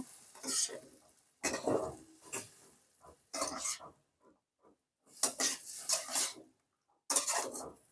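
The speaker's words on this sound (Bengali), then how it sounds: "দিয়ে এটাকে একটু নেড়ে নেব।" Beans and prawns being stirred in a pan for a Bengali chachchari, with bursts of spoon-scraping and clatter separated by quiet gaps, fairly close.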